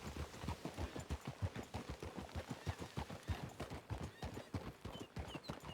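A horse in Red Dead Redemption 2 clip-clops along at a steady trot, its close, rhythmic hoofbeats continuing throughout, joined by whinnying.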